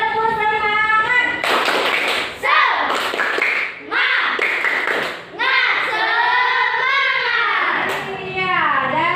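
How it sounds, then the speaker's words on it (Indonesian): A classroom of schoolchildren performs the rhythmic 'tepuk semangat' clapping chant, with patterned hand claps mixed into loud, continuous sung and chanted voices of the kids and their teacher. "ayo tepuk semangat."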